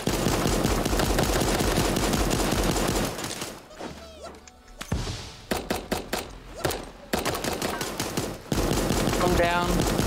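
In the video game Super Animal Royale, a blue gun fires in long rapid automatic bursts, dense and loud, broken by a brief lull with scattered single shots before the barrage resumes, with voices talking over it.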